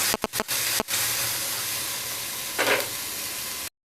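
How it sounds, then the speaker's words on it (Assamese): Spice paste ingredients fry in a pan with a loud, steady broadband sizzle. A few quick clicks and scrapes open the sound, a brief hissing surge comes later, and it cuts off abruptly. "আৰু এইখিনি এতিয়া মই ৰংচোৱালৈকে ভাজি থাকিম।"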